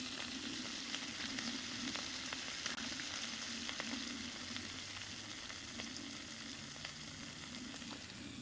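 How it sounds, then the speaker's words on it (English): Steak fries in a frying pan on a propane stove at a campsite, giving a steady close crackling sizzle with tiny pops throughout and no talking. "Slap it on the propane, put a frying pan down."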